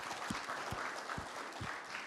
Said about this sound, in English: Can we give these guys a huge round of applause?